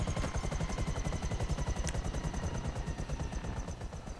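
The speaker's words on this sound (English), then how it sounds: "all I gotta do is land up here, and she should come right up to the top and just get in the helicopter" A helicopter's rotor pulses rapidly and steadily in GTA Online, loud and close throughout with the engine droning underneath and no talk.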